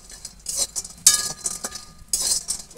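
Dry lentil dumplings (bori) stirred and turned in a pan without oil, with clinking and scraping of a utensil against the metal in short irregular bursts, close and clear with no talk.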